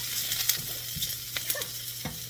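Leftover Spam frying in a pan, a steady close sizzle with small pops and crackles throughout.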